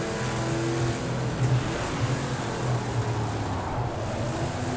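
Classic GT racing car in Project CARS 2 at Watkins Glen, a steady engine drone under throttle with a low rumbling tone rising and falling slightly, heard alone at a constant level.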